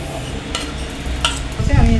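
Murali dough pieces fry in hot oil, a steady close sizzle with a couple of brief utensil clinks and stirring scrapes, growing louder and bubblier near the end.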